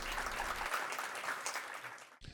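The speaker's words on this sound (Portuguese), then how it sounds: "A plateia aplaude calorosamente." Warm audience applause at a literary talk event, a dense broadband clatter of many hands clapping steadily, cutting off abruptly near the end.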